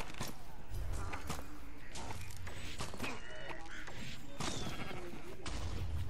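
Sheep bleating in the Minecraft Dungeons video game, faint bleats buried in a dense, busy mix of combat effects and game noise.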